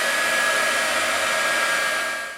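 A heat tool blows steadily at close range while drying stamped ink on a handmade card, its loud, even whoosh lasting about two seconds before starting to fade.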